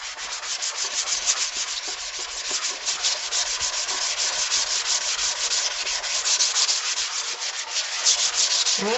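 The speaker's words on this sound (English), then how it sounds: "that is scrubbing" Steady abrasive scrubbing of a kitchen sink with Bar Keepers Friend soft cleanser, a continuous close rubbing hiss with short back-and-forth strokes and no voices.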